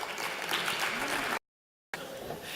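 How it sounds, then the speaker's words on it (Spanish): An audience at the iRedes 2016 conference round table applauds the panel speakers with dense, steady clapping from the room, broken by a brief total dropout before the clapping resumes. "un fuerte aplauso para ellos"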